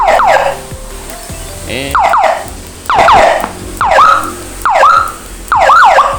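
A Whelen IC handle V2 200W siren module cycles through loud, close electronic siren tones, mostly rapid rising-and-falling yelp sweeps in repeated bursts. Someone says one short word near the start.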